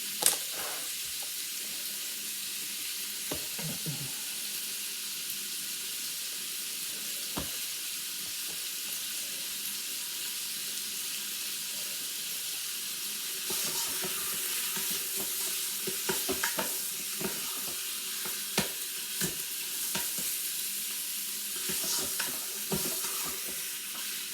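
Goulash meat searing and browning in a pan while being stirred, a continuous sizzle and fry with scattered sharp scrapes and clicks of the utensil, growing busier in the second half, with no talking.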